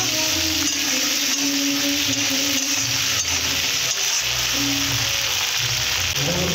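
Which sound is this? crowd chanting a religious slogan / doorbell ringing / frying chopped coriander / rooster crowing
frying chopped coriander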